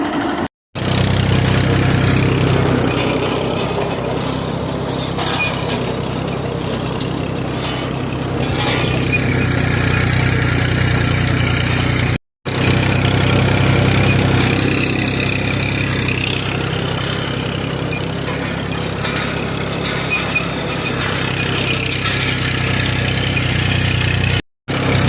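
A tractor engine runs steadily while ploughing a field with a cultivator, a loud continuous mechanical drone with rattling under it, broken by two brief dropouts and with no talk.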